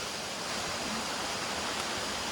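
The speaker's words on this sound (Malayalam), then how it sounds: "വരവൂര് വെള്ളച്ചാട്ടമാണ്." Continuous hiss and rush of falling water at the small Varavoor waterfall near Erumapetty, a soft, even roar without breaks or speech.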